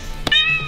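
A single short cat meow, close and fairly loud, rising briefly after a soft thump.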